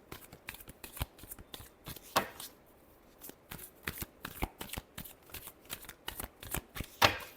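Tarot cards are shuffled by hand close up in a series of quick, crisp riffles and slaps, with brief pauses between bursts. No one speaks.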